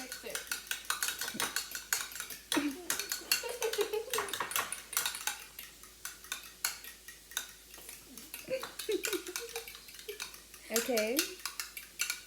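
A utensil scrapes and clinks against a bowl while milk is mixed into the ingredients, in steady, close rattling strokes. Brief voices break in now and then over the stirring.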